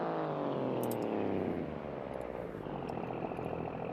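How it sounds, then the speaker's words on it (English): Race truck engine running in BeamNG.Drive, a loud, steady harmonic drone that sweeps down in pitch and settles into a rough, shaking idle, heard alone throughout. "Wow, that engine shakes a lot."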